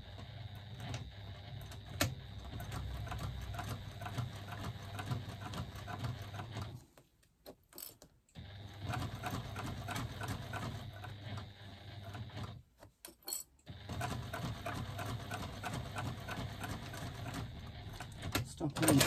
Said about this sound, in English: I'm going to just top stitch across the top there using 1/8 of an inch seam allowance.